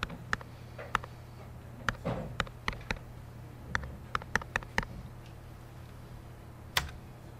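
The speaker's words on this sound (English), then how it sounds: "Now go to our calculator, type this in." Calculator keys tapped in quick, irregular clicks, some in short bursts and others spaced apart, faint and close in a quiet room with no talking.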